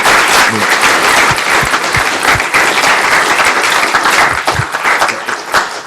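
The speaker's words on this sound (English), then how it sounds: "Can we have another round of applause? These debaters did a great job." A public debate audience gives the young debaters a round of applause: loud, continuous clapping from a crowd, sustained throughout with a few sharper individual claps standing out.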